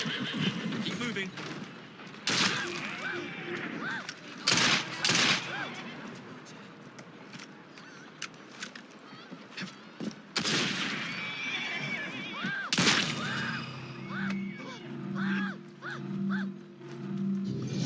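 Horses neigh and whinny in the video game Assassin's Creed Syndicate amid clattering hooves, bursts of gunfire and game effects, with a steady whine and repeated tones underneath.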